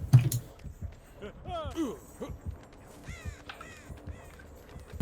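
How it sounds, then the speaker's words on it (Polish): Crows caw repeatedly in the Dead by Daylight video game, a cluster of sharp, harsh calls in quick succession over a quiet backdrop, with a voice speaking briefly in between. "jeszcze więcej tych ptaków."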